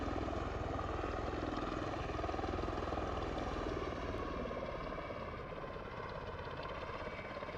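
An MV-22 Osprey tiltrotor in Microsoft Flight Simulator 2020, with a loud, steady engine and rotor drone that pulses rapidly and continues without a break, close and unchanging throughout.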